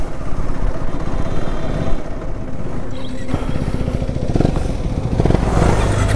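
A KTM Adventure 390 motorcycle rides along a forest road, its single-cylinder engine droning steadily up close with rising revs and some clatter toward the end.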